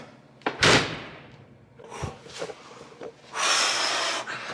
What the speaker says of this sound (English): slam that door. So you can hear the difference